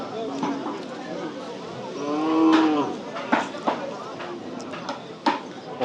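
Cattle lowing at a Bangladeshi livestock market, with one long, loud moo in the middle, set against busy crowd chatter and scattered clicks and knocks nearby.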